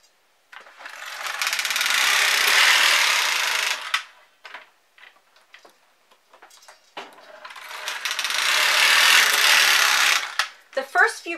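A knitting machine carriage running across the needle bed while knitting rows of a hat, with two long loud mechanical whooshing passes separated by clicks and handling noise.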